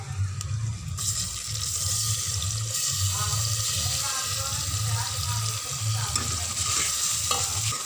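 Tomatoes added to golden fried onions in a pan, with a steady sizzle and the scrape of stirring, plus some running water and background noise.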